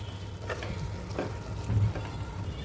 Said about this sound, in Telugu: ఇప్పుడు ఈ మసాలాలు మొత్తం బాగా వేగించుకోవాలి.